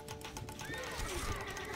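A horse whinnies in the strategy game Stronghold: Crusader, a short high neigh that rises and tails off over busy in-game background noise, close and moderately loud.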